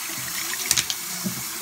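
Water runs softly from a tap as makeup brushes are wetted, with a few brief splashy bursts near the middle.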